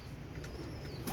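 A young teddy pigeon pair gives soft cooing close by, with a brief burst of wing flapping at the end, no talk.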